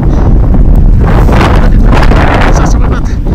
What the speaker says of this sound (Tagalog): Parang nung basta ko parang lumalakas ang hangin ah.